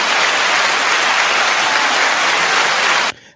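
Sustained round of applause from a crowd, a dense, loud, even roar of clapping that holds steady and then cuts off abruptly near the end, leaving a brief quieter tail.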